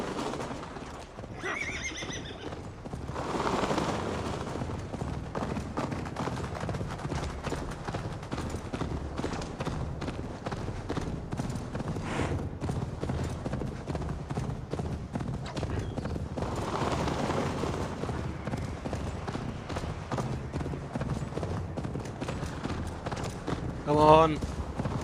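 Horse hooves pounding at a gallop in Assassin's Creed Valhalla, a steady rapid clatter running through the whole stretch alongside whinnies and game music, with a brief louder burst near the end.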